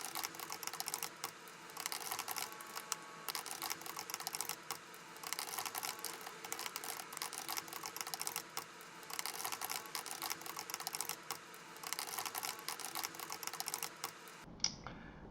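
Someone types continuously on a computer keyboard while writing code, with dense close clicking keystrokes that stop abruptly near the end.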